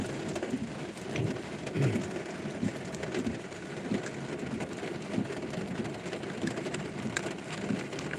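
Rain falls steadily in an even, close patter across the whole stretch, with a low rumble underneath.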